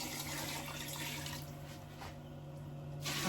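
Water pours and splashes steadily into a cooking pot holding meat and stockfish for egusi and ogbono soup, a continuous gurgling rush that eases off before surging again at the end.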